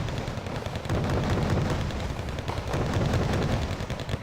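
Gunfire and explosions from units in a modern military strategy game, a dense, rumbling barrage of rapid shots and booming blasts that continues without pause, loud and close.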